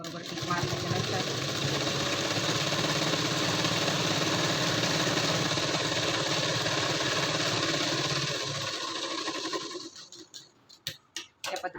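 Sewing machine stitching fabric for a puff sleeve, a steady whirring motor run lasting several seconds, close and loud, then stopping, followed by a few handling taps.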